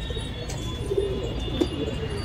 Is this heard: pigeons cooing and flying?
yes